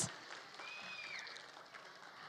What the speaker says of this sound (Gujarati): સો ફર્સ્ટ પ્રાઇઝ માટે એકવાર જોરદાર તાળીઓ આખા હોલમાં સંભળાવી થવી જોઈએ